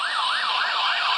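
A loud, continuous wailing police car siren in the racing game Asphalt 9 sweeps up and down in steady cycles, close and dominant, with no talking.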